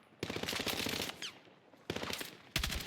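Automatic machine gun fire in a Battlefield campaign mission comes in three sustained, loud bursts, separated by short pauses.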